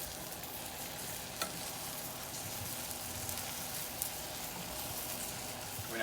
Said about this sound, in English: We're now going to be adding in the bananas and just going to caramelize them on both sides for about 3 to 4 minutes.